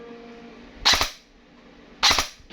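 An F4 CQB Beidou airsoft electric gun fires in double-tap mode, giving two sharp bursts about a second apart. Each burst is a quick cluster of crisp, snappy pops, and the bursts are separated by near silence.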